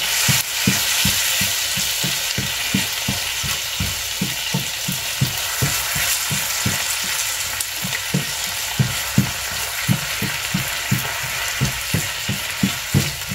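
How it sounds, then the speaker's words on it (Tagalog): Soaked dried salmon (daing na salmon) fries in a pan, a continuous close sizzle broken by regular rhythmic scraping stirs or taps, with no talking. "Binabad ko na, piprito na lang na ipiprito."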